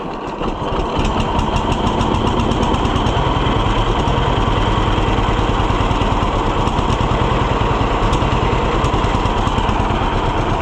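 A small farm engine runs at half choke with a loud, close, steady chugging rumble and a fast, uneven beat that holds without a break for about ten seconds.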